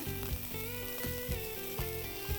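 Shrimp frying in a black skillet in a Louisiana home kitchen, with a faint, continuous sizzle and soft recurring pops at an even, quiet level.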